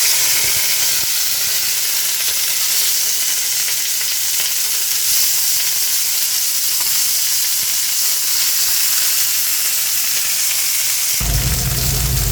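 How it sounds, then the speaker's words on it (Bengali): Oil heats in a hot pan with a dense, continuous sizzle, loud and close throughout, shifting in tone near the end, with no one speaking. "একটু তেল গরম করতে দিয়েছি আমি।"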